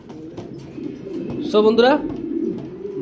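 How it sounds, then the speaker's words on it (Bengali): A pair of young silver pigeons cooing close by in a short soft burst midway, with someone talking over them. "ফ্রেশ কন্ডিশনের এক পেয়ার কবুতর নিয়ে আসলাম।"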